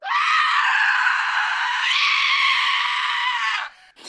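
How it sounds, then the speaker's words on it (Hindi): A witch lets out a loud, shrill, sustained scream in a horror story, one continuous piercing wail that rises in pitch partway through and then breaks off. "चुड़ैल जोर से हंसते हुए चीखती है।"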